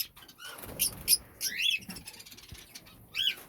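Pet lovebirds in a cage give a few sharp, high chirps and squeaks, scattered and fairly close, with soft rustling and shuffling between the calls.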